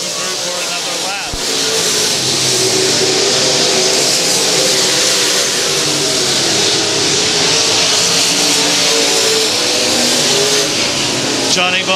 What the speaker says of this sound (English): Leader Johnny Bone Jr. pulling through for another lap